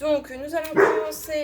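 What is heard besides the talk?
dog barking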